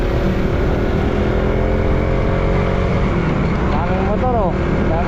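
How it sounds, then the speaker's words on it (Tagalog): Motorcycles crowd a roadside checkpoint at night, a continuous dense engine drone from several bikes idling and moving close by, with a brief rising rev and horn-like tone near the end. "Daming motor oh. Daming motor doon."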